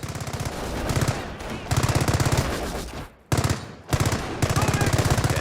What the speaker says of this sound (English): The MG emplacement is suppressing the enemy troops.